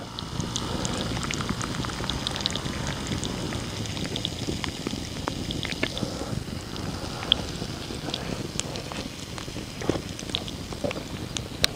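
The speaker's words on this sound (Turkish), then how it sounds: "Hafiften yağmur çiselemeye başladı." Light rain patters steadily on nearby surfaces on a mountain plateau, with scattered individual drops ticking over a soft outdoor hiss.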